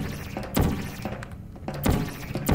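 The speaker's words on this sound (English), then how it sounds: "I just need to fire at the correct portal surface" Portal gun shots in the video game Portal, three short punchy thunks spaced roughly a second apart, loud and close with brief low rumbling tails.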